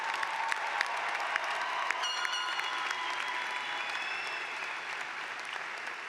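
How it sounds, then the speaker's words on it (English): A large commencement audience gives sustained, even applause for the workers and volunteers, a broad wash of many hands clapping steadily throughout, with faint whistles or cheers briefly rising above it. "Please join me in showing our appreciation with a round of applause for their efforts."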